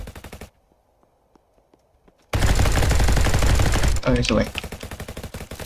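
Gunfire in the Roblox game RF Legacy: after a near-silent pause, a loud, rapid automatic burst rattles on continuously, and a person talks briefly in the middle of it.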